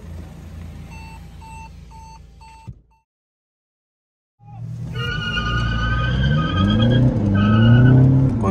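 Drag race between a tuned 1.6 Hyundai Creta and a tuned Mercedes A200: a steady idle with repeated electronic beeps, a sharp skid, then a few seconds of silence before loud, rising engine revs that climb through several gear shifts.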